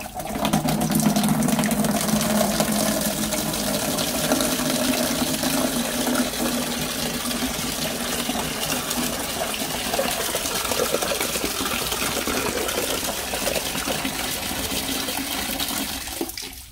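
Water gushing out of an open test cock on a large 3-inch Wilkins 375 RPZ backflow valve, a loud steady rushing flow heard close up and unbroken, easing slightly near the end.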